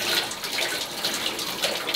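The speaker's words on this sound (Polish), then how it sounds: "najpierw wiaderko musimy podstawić i myjemy rączki." Hands being washed under running water that pours into a bucket, a steady close splashing rush that continues without pause.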